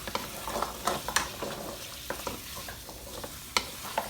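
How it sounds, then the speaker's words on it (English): Haitian-style cow-foot stew coated in tomato paste, stirred in a pot over low heat, giving close scraping spoon strokes and knocks at an irregular rhythm over a soft continuous sizzle, with no voices. "And now I'm going to go ahead and stir it."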